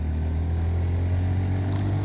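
Yamaha FZ Rave 150 motorcycle engine accelerating with a steady low-pitched drone, close and fairly loud throughout, with no talking.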